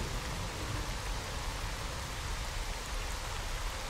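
Steady, dense rain hiss in S.T.A.L.K.E.R. Call of Pripyat, a continuous broadband wash of falling water with a low rumble underneath, even and unbroken throughout.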